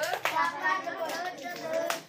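Small children clapping their hands during a Christian children's ministry song, a few sharp claps scattered under prominent sung voices.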